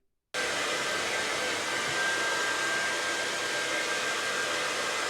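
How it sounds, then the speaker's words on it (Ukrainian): A hair dryer powered by an EcoFlow Delta 2 portable power station switches on and blows steadily with a loud, even whoosh and a faint high whine. "починаємо сушити волосся"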